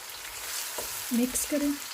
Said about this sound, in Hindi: अब इसमें शामिल करूँगी हमारे कटे हुए प्याज, ये डाल लें आप इसमें। मिक्स करें,